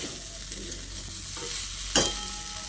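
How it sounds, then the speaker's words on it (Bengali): Soybean chunks being stir-fried with spices in a pan, a steady sizzle with scraping stir strokes and one sharp knock of the spoon, close and even, no talk. "খুব ভালোভাবে সয়াবিনটাকে মশলার সঙ্গে কষিয়ে নিয়েছি"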